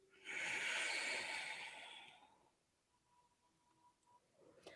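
A long, breathy exhale through the nose or mouth during a yoga cat-cow round of the back, loud and close for about two seconds, then fading into quiet room tone.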